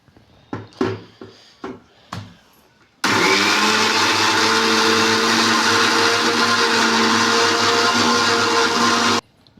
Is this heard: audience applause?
no